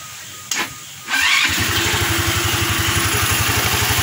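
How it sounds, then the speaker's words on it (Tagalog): A GY6 scooter engine with a newly installed fuel pump cranks, catches after a second, then settles into a close, steady idle with a regular putter. "Yan mga boss, nagana na yung motor natin."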